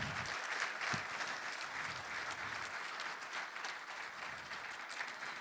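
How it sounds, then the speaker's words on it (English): An audience at a mayor's public report event breaks into sustained applause, a dense, even wash of many hands clapping that carries on throughout without pause. "So give all of them a round of applause."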